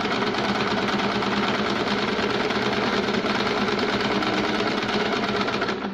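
An Usha Janome sewing machine stitching a buttonhole runs with a fast, even mechanical chatter, loud and close, continuous for six seconds before slowing at the very end.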